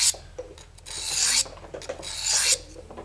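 A knife blade is drawn across an Eze-Lap diamond sharpening stone in close, dry rasping strokes: two long, loud scrapes with a few short, lighter strokes between and around them.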